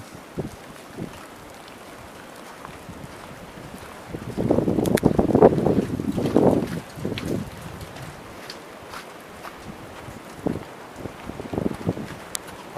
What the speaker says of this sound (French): On entend le vent dans les arbres en haut.